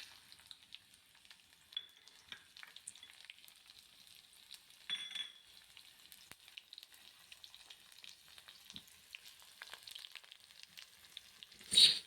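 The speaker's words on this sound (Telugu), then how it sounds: "వెల్లుల్లి, ఆనియన్స్ అన్నీ ఆయిల్లోకి వేసేసి బాగా వేపుకోండి." Garlic and onions frying in oil, a faint, scattered sizzle and crackle with a brief clink of a utensil near the end, heard alone.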